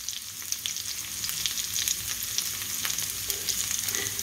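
Pork tocino fries in a pan with a bright, continuous sizzle and crackle, steady and close, scattered with sharper pops, and no voices.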